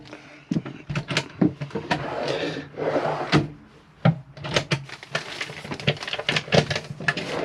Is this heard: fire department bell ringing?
no